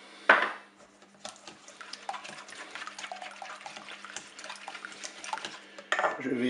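Beaten eggs, vanilla and sweetener being mixed in a bowl in a Cookeo kitchen setup, with light clinks and scrapes of a utensil against the bowl, a sharper knock near the start and a louder clatter at the end.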